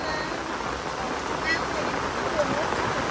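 A heavy, persistent downpour at the tomb of NSUT Vu Linh keeps up a steady wash of noise, with a faint voice briefly breaking through under the rain.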